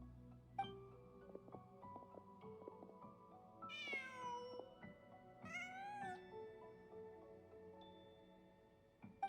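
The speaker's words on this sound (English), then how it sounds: "Just a cat." A video game cat meows several times, with two clear rising, drawn-out cries standing out over a soft game music backdrop and no talking.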